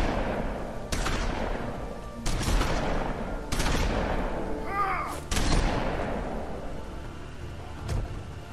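Gunfire aimed at the player in the video game The Wolf Among Us, several loud shots at irregular intervals with echoing tails over a low rumbling background.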